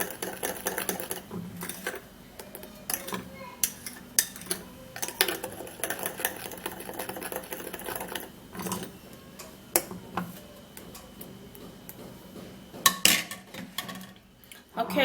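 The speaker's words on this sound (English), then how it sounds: "I would have to mix the ingredients all up together, and it's gonna be a little foamy." Lemon skin-treatment ingredients mixed by hand in a bowl, giving a steady run of small clinks, taps and scraping strokes with irregular louder knocks, close up and moderately loud, with no talking.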